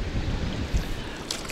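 Low, buffeting wind rumbles against the microphone in gusts at the water's edge while fishing, with a faint splash of water near the end.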